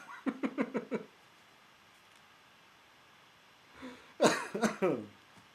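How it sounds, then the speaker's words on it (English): A run of five quick coughs, then a pause and a second harsher burst of coughing, close up against faint background hiss. "speaking of cigarette, and I cough"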